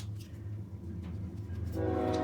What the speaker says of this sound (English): there goes the train again